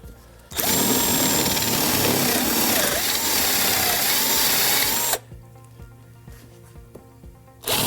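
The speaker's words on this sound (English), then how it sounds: "And then we have to countersink the top of them, and we want to send this down to probably about that deep." A power drill countersinks holes in pallet wood for a coffee table, running as one loud, steady whine for several seconds before cutting off, followed by quieter workshop sounds.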